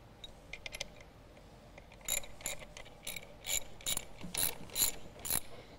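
Ratchet wrench clicks come in quick bursts as it tightens the high voltage interface module on a Chevy Volt battery pack, with sharp metallic ratcheting strokes that start faint and grow louder and more regular, close by with no talk.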